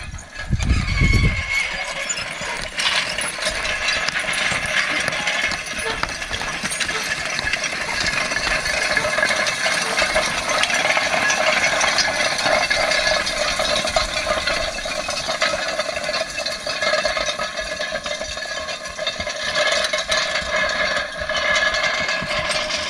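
A horse-drawn harrow clatters over garden soil being prepared for wheat, making a loud, continuous metallic rattle and rumble with a heavier thump at the very start.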